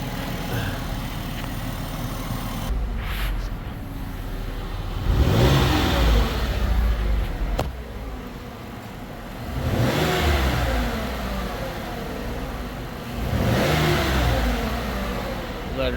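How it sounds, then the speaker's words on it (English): A 2011 Ford Escape engine idles, then revs up three times in rising and falling swells, each rev lasting a couple of seconds, close and fairly loud. "rev it a little. Maybe you can hear it. See, the more it warms up, the louder the engine gets"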